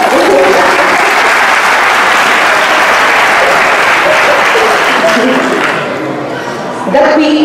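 Sustained crowd applause at a political rally presenting the Tutti per Locri list backing Giovanni Calabrese for mayor, loud and dense throughout, easing slightly near the end before a final swell.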